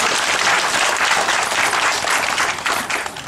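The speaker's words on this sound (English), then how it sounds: "Give a big applause." Loud, close applause rises from an audience at a religious discourse in a Virginia temple, a dense burst of clapping that dips and scatters briefly near the end.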